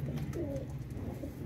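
Pigeons coo softly in low, repeated throaty murmurs, close by and steady over a quiet background.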